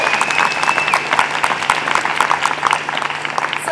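An audience at a youth entrepreneurship summit gives a round of applause, a dense, steady patter of many hands clapping together that carries on without a break and stays fairly loud throughout.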